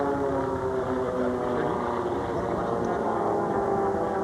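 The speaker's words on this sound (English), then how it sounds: "Oh, has he got that airplane moving?" A racing airplane roars past at the Delta Air Show at Boundary Bay, a steady droning engine note held loud and close throughout, with a race commentator talking over it.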